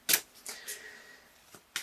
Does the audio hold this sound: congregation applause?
no